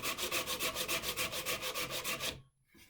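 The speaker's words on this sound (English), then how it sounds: "sand it down for a moment" A piece of wood sanded by hand, rapid rhythmic back-and-forth rasping strokes, close and loud, stopping abruptly near the end.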